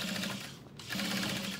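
A sewing machine stitches a fleece side panel along its outside edge with a long stitch, making a rapid, steady mechanical chatter up close, pausing briefly midway before running on.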